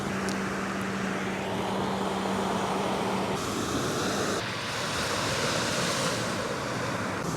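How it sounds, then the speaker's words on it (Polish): Ocean waves on a cold-water Florida beach roll in as a steady, broadband wash of surf, continuous and fairly close, with a low rumble underneath and no talking. "sam szum tej wody jest taki fajny"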